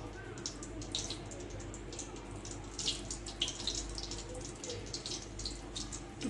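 Chicken singaras sliding into hot oil and frying, a continuous bubbling crackle with scattered sharp pops, steady and close, lasting several seconds with no one talking.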